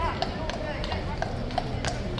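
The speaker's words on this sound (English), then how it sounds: "Here's the replacement horse." Horse hooves clip-clop on hard ground among a large tourist crowd, as a few sharp, irregular hoofbeats sound under continuous talking and crowd chatter.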